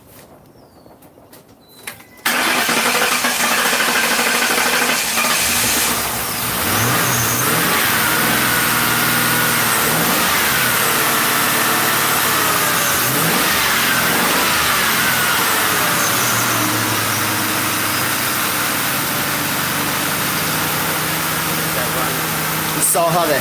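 A Ford Crown Victoria engine, model years 1998 to 2011, starts up and runs just after a spark plug change, first stumbling and hesitating, then settling into a loud, steady idle close to the listener.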